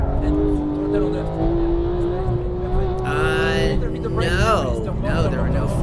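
A race car engine at full throttle in the Forza video game, loud and close, with a sustained rising whine and rapid gear-shift revs, while people talk over it.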